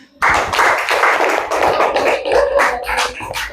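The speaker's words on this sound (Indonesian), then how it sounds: "Tepuk tangan" Applause at a high school teacher supervision session: dense, continuous clapping from a group of students fills the room, loud and steady for several seconds.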